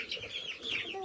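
Hens in a backyard coop cluck close by in a quick, overlapping string of short calls, several birds sounding at once with no talking.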